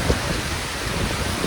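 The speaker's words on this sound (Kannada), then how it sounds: "ಮಳೆ" Heavy rain pours in a steady, broad hiss with scattered drop impacts, loud and close, filling the whole moment without any talk.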